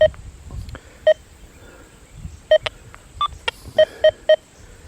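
A series of short, sharp electronic beeps, evenly pitched, repeating at irregular intervals over a quiet hiss, some in quick succession.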